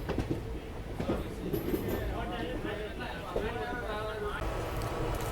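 A train rolls past steadily for several seconds, with continuous rumbling rail noise and light clatter as someone talks over it.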